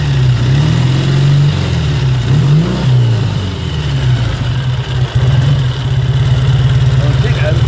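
A hot 1954 Triumph 5T motorcycle engine fitted with a Morgo oil pump ticks over with a steady, close, low thrumming idle, with a couple of brief rises in revs early on before settling back.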